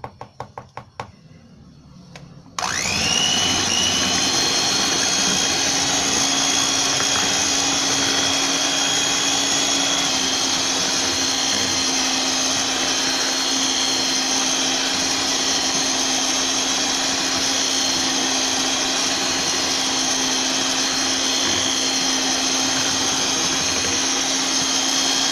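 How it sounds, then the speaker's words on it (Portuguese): An electric mixer beats chocolate mousse at medium speed, switching on after a few clicks and then running as a loud, continuous whirring hum without pause. "eu vou bater em velocidade média por aproximadamente uns 8 minutos"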